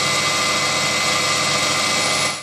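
A Proxxon PD 250e lathe runs in reverse while an internal threading tool cuts a thread, producing a steady, close motor whine with a faint scraping texture that holds level before fading slightly at the end.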